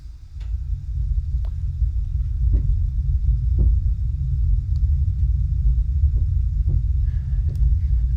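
Loudspeaker woofers excursing too far, producing a deep, loud, continuous low rumble that throbs steadily throughout, with a few faint clicks and taps over it.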